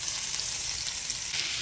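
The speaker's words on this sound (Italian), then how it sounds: "adesso si è ben fritta la cipollina e il burro, aggiungiamo prosciutto cotto" Cooked ham, onion and butter fry in a pan, giving a steady, close hiss of sizzling with no voices over it.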